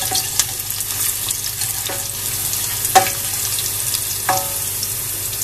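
Garlic frying until golden for poondu keerai masiyal, a steady soft sizzle in a pan with a few sharp spoon clinks and stirring taps spaced irregularly.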